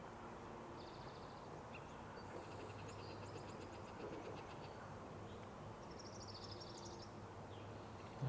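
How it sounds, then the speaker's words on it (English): An orange-crowned warbler in a marsh sings faint, high, rapid trills that recur several times at a distance over a steady low hum. "That's the orange-crowned warbler you can hear."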